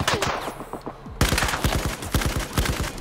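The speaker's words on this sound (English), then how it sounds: "Oh, that's the bastard shooting me." Rapid bursts of gunfire in Battlefield 4, loud and close, with sharp repeated shots in quick volleys and a dense automatic stretch in the second half.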